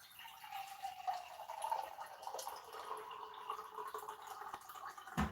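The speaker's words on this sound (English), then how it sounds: "Just gonna get some water, guys." Water being poured or filled indoors, with faint trickling and a few soft drips over a quiet background, ending in a short louder splash.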